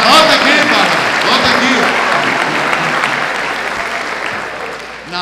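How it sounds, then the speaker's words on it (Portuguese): An audience at a discipleship teaching session applauds in loud, dense clapping that continues through the whole stretch and fades slightly toward the end, with a voice speaking over it. "Vamos dar uma salva de palmas a esses que ficaram de pé."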